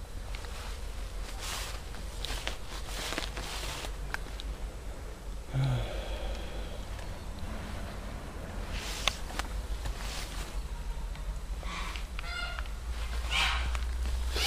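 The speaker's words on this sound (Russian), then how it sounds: "Так, это мои гуси на моем огороде." Geese honk in a vegetable garden, a few scattered calls of middling volume rising from a steady outdoor background hiss. No one speaks.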